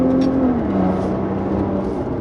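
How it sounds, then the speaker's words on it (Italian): A 2017 Maserati Ghibli SQ4 with a 3-litre twin-turbo V6 underway on the road, a loud steady engine drone with a tone that shifts and dips as the car drives, heard alone without speech. "Il motore di questa SQ4 è il top di gamma per la Ghibli, un V6 sovralimentato turbo da 3 litri"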